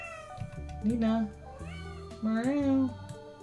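Two drawn-out cat meows rise and fall clearly over low background music and noise, one after the other with a short pause between.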